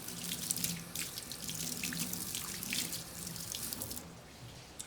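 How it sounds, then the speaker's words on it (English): A knife rinsed under a running hot-water tap at a sink, a steady close splash with occasional drips and clatter, no talk. "and then you are going to rinse the knife with hot water."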